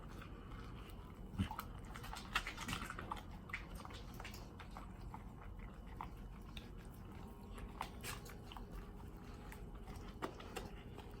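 A bull terrier chews and crunches food, a sandwich with potato, producing steady close-up biting and chewing clicks and crunches over about eleven seconds with no talking.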